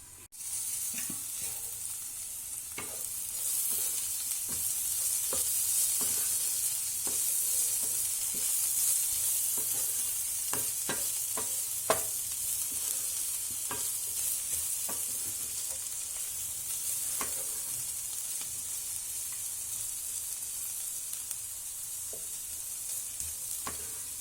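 Carrots and beans fry under a lid in a covered pan, making a steady, soft sizzle throughout with occasional faint clicks and pops and no talk.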